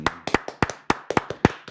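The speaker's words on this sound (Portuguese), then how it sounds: "Estamos aqui recebendo com uma salva de palmas" Sparse claps from a small studio audience welcoming businesswoman Vivianne Brafmann onto a talk program, about a dozen separate sharp hand claps in an uneven rhythm, close and clear with no voices.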